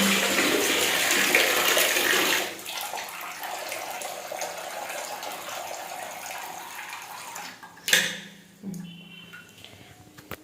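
Hot water from a geyser runs into a bath basin, a steady broadband gush for a couple of seconds that then drops to a softer trickle, followed by a couple of sharp splashes or knocks near the end.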